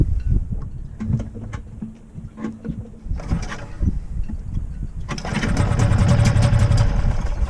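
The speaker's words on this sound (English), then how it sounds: "Watch the difference now with the brand new outboard." Brand-new outboard motor on a sailboat, primed and choked and never run before. It sputters through irregular coughs and false catches, then settles into a steady running drone.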